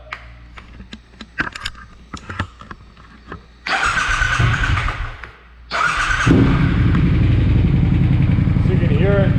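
A Triumph Scrambler 1200 fitted with a Zard exhaust is started: clicks and handling noises first, then two bursts of engine cranking and firing before it catches into a loud, steady idle nearby, with some talk over the start.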